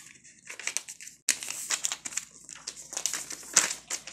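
Sheet of origami paper folded in half for a paper ninja star, close crinkling and crisp creasing rustles in bursts, a quieter stretch then a sharp louder onset continuing with repeated crackles.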